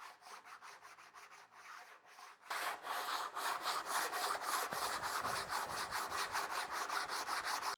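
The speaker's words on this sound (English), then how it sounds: "I do recommend using a bit of sandpaper and smoothing out the cut." Sandpaper rubs back and forth over a rough bandsaw cut in wood, quick rhythmic scratchy strokes close by, lighter at first and then harder and denser from a few seconds in.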